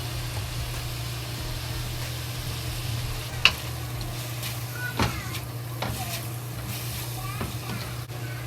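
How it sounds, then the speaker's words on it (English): Pork fries in a pan with soy sauce, giving a soft, steady sizzle. A few sharp scrapes and clicks of stirring break through, with a low hum underneath. "Just slowly fry. This is the soy sauce. We add 1 tablespoon soy sauce."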